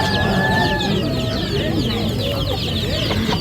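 Chickens cluck and call in a dense farmyard chorus with high chirping peeps from ducklings over steady background noise, near and continuous, with faint speech mixed in.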